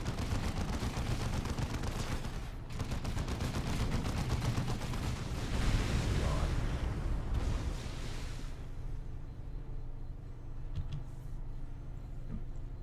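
Satchel charge blasts and rapid gunfire in the Dawn of War 2 game: a dense, loud barrage of shots and booms for about nine seconds, then easing into a quieter low rumble with scattered sharp reports.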